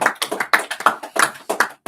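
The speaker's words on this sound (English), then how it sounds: "So give yourselves a round of applause." A small class claps, with sharp separate hand claps in an irregular quick rhythm, close and moderately loud, with no talking.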